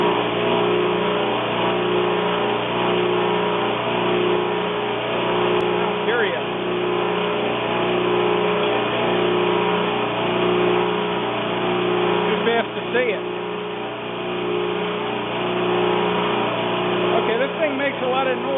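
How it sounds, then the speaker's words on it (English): Central Machinery 6x9 bench sander running steadily, a loud, constant motor hum and whine with slight fluctuations, close to the machine and without talking. "I just wanted to fire it up and run it and make sure everything's working"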